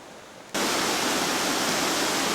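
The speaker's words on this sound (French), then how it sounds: "Une cascade assez haute qui descend dans du gravier et se répand finalement généreusement de part et d'autre." A tall waterfall drops onto gravel in the Japanese Alps near Toyama, coming in abruptly after a quiet half second as a loud, dense, steady roar of rushing water.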